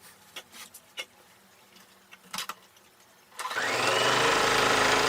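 Sewing machine begins stitching the long edges of a fabric tube for a Christmas table runner, a steady whirring run starting after a few seconds of quiet handling taps and rustles.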